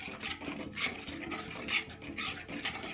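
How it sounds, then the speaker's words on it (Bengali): Chhana mixed with milk powder being stirred in a pan for a homemade sweet, giving repeated soft scraping and rubbing strokes of a spoon against the metal, steady and close with no talking. "গুঁড়ো দুধ মাখা ছানাটা দিয়ে দিলাম। এরপরে এটা একটু নাড়ব।"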